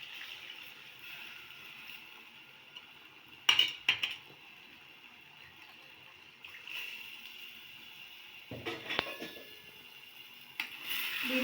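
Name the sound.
stirring black-eyed pea curry in a pot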